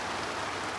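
Rain falls as a steady, dense hiss, even and continuous throughout, with no talk or other distinct sounds above it.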